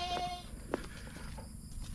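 Goats penned together inside a farm house in rural Thailand, one brief bleat standing out mid-clip over a low murmur of other animals and faint background noise, with quieter calls around it.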